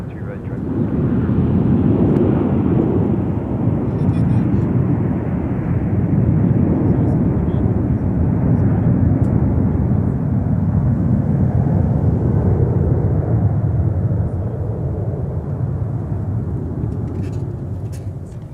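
A Delta airliner in special livery at Minneapolis–Saint Paul airport, its jet engines producing a loud, steady roar that swells and slowly fades as it passes close by, with people talking faintly.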